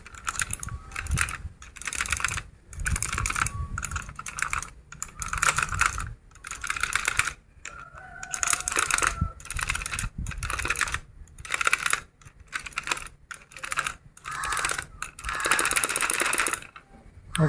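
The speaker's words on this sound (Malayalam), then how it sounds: "അത് നന്നായിട്ട് ഷെയ്ക്ക് ചെയ്ത് കൊടുക്കാം, ഇതിൻ്റെ ഉള്ളിൽ ഉള്ള ചളിയും പൊടിയും എല്ലാം പോകാൻ വേണ്ടി" Skate bearings shaken in a container to clean them, a loud continuous metallic rattling in rapid rhythmic bursts separated by brief pauses, close up and without talk.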